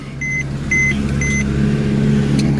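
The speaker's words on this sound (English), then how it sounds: "I'm going to tap this big start-stop. Everything fires to life with a picture of the car staring at you." A 2014 Mercedes-Benz E350 AMG Sport coupe starts with a press of its start-stop button, giving a few short electronic chimes followed by a steady, low engine idle up close.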